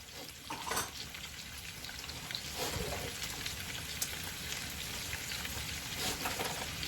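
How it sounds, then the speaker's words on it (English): Bell pepper, green onion, parsley and cilantro frying in a pot for beef and shrimp gumbo, a steady crackling sizzle with occasional stirring scrapes, fairly quiet and continuous. "they're getting ready to get fried up in there"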